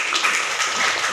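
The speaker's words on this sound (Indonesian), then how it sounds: "tepuk tangan dulu" A classroom group applauding a group presentation, a brief burst of dense clapping.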